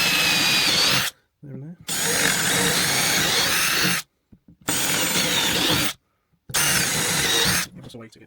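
Power drill boring a hole through wood in three long bursts separated by short pauses, loud and close, with a voice speaking briefly in the gaps.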